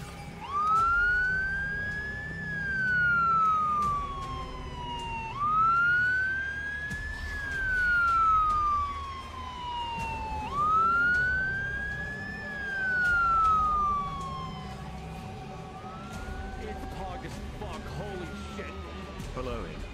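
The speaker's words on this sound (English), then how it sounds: "Fire truck. Ooh, dabba dabba, fire truck." A fire truck siren in The Walking Dead Destinies video game wails in repeated rising and falling sweeps, three strong cycles then a fainter one, moderately loud over low game background.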